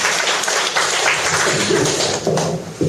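Audience applause at a seminar, given for a professor at the close of a lecture: a dense, steady wash of many hands clapping, loud and sustained for the whole stretch, with little else.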